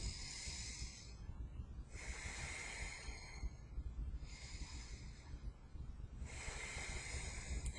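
Slow, deliberate scalene breathing shown as a demonstration, with four loud, airy breaths that alternate between inhales and exhales at a steady pace, close up, and no talking.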